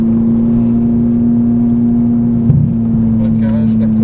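A Ferrari Italia engine on a racetrack during a driving course gives a loud, steady droning hum from inside the car, with a brief bump partway through and a muffled voice underneath.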